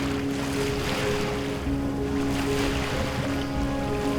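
The wooden sailboat Jada, built in 1938, moves under sail on the open ocean. Waves wash against the hull and wind buffets the microphone in a continuous, moderately loud rush, with a low hum underneath.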